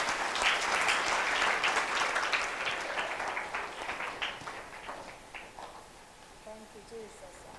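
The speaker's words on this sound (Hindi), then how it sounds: "एक बार जोरदार तालियां बजा के प्रभु का धन्यवाद" A church congregation claps loudly in thanks to the Lord, a dense wash of applause that gradually thins and fades over several seconds, with a voice speaking faintly near the end.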